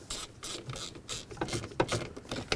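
A ratchet bolts a combination switch back onto a 1997-2003 Ford F-150, giving rapid close clicking pawl strokes in uneven bursts with no talking.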